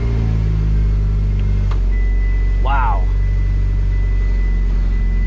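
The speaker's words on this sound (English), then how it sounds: "I haven't heard this car in such a long time, just because it's been down." A Mitsubishi Evo X MR engine idles after its first start following a long period out of service, giving a loud, steady low rumble throughout with one brief spoken exclamation partway through.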